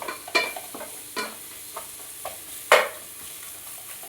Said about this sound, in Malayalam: ഈ തവി വെച്ച് നന്നായിട്ട് ഈ തക്കാളിയൊക്കെ നന്നായിട്ടൊന്ന് ഉടച്ച് ഇതിലോട് ചേർത്ത്